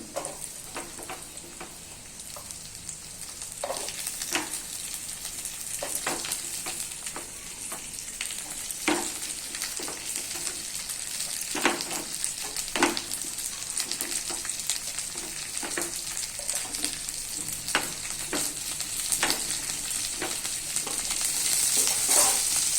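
Chopped onion fries in a hot pan, a steady sizzle that grows slightly louder, punctuated by repeated scraping strokes of a spoon stirring it, close and alone.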